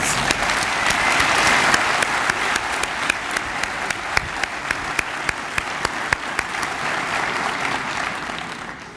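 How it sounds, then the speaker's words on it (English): A large audience applauds the University of Johannesburg choir at a vice-chancellor's inauguration ceremony, dense steady clapping with a few sharp louder claps standing out, continuing for about nine seconds before beginning to thin. "our UJ choir deserves another round of applause"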